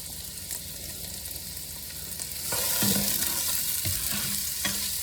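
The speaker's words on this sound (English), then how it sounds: "We're going to stir this up a little bit." Lean ground beef fries in a pan and is stirred, a steady sizzle that grows louder midway with scraping utensil strokes close by.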